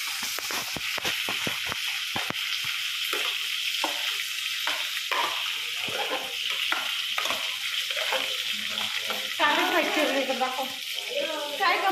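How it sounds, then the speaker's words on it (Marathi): A tadka of spices tempering in hot oil at a home stove sizzles steadily and close, with crackling pops early and a burst of louder frying near the end, while people talk in the background. "तडका देते, तडका"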